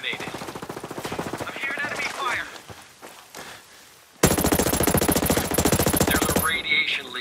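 Sustained automatic machine gun fire in Ghost Recon Breakpoint PvP, a loud dense burst of rapid shots in the second half, after quieter combat sounds and scattered shots.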